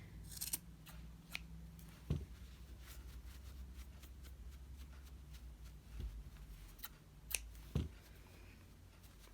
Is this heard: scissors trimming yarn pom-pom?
yes